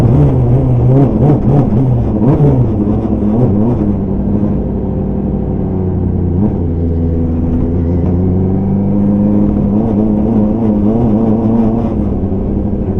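An F1000 open-wheel race car running installation shakedown laps, its loud engine droning and revving up and down with shifting pitch, heard close and continuously from onboard with no talking.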